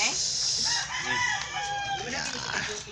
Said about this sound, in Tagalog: Ito yung mga manok namin dito